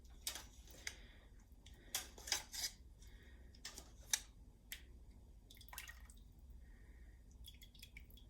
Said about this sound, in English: This kind of gets messy with the dripping.